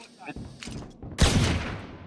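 Gunfire from the Valorant shooter game comes in several sharp bursts, first lighter shots and then a loud, sustained volley near the end.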